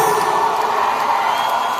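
A large crowd at a political rally in Batangas City shouting and cheering together, a loud, sustained roar of many voices without a break.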